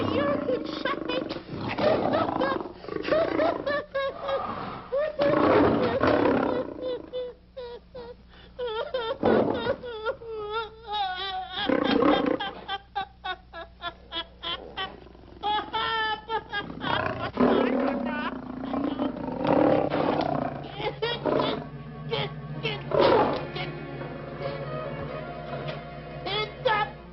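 A lion roars in the 1949 comedy film Africa Screams, giving a series of loud, deep, growling roars with short pauses between them, close and dominant over a quieter background.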